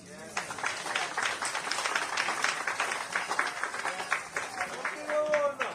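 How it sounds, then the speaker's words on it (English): Audience applause at a Vigo Blake Day celebration in Antigua and Barbuda, a steady dense spread of clapping that carries on for several seconds with faint voices mixed in. "Round of applause."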